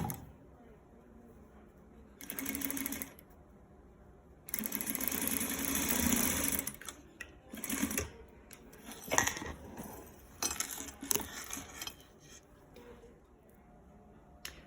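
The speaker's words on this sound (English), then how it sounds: "you're going to stitch it all the way across with your machine" Sewing machine stitching hem tape along the raw edge of fabric, running in two main bursts of whirring, the longer one steady for about two seconds, then followed by light clicks and handling sounds.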